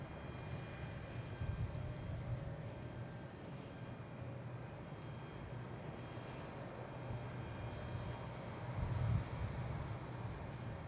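A Delta Embraer E175 regional jet inbound from Reagan comes in to land at Boston Logan, a steady, faint, distant jet roar that swells briefly near the end.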